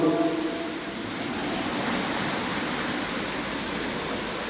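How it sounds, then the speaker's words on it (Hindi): Water falls in a steady, dense rush, a continuous hiss that holds level throughout with no voices over it. "पानी गिर रहा है"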